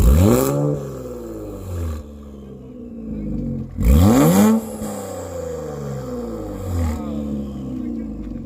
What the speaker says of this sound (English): That's how the HKS blow-off valve sounds on the Q60.